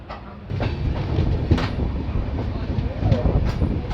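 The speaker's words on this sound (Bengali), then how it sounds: "সন্ধ্যা 7:05 ট্রেন এনজেপির থেকে ছাড়ার পর first halt Aluabari road station enter করছে।" The Uttarbanga Express runs on the rails pulling into Aluabari Road station, a steady rumbling roll with faint clatter heard from inside the train.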